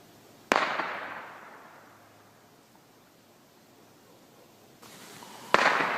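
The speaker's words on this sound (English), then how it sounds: "I think that was a gunshot." Gunshots echoing from a forest: two sharp, loud reports about five seconds apart, each trailing off in a long, fading reverberation over quiet outdoor background, with no talking.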